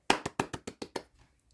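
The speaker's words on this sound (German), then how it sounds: "Applaus natürlich" A single person clapping, about seven sharp, close hand claps in a quick, slightly uneven rhythm, then fading into quiet.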